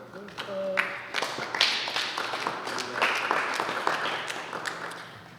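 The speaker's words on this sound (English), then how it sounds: "give a round of applause to all the poets that shared" Moderate applause from a small audience for poets at a Blasco Library poetry reading, under a speaking voice that runs through the clapping.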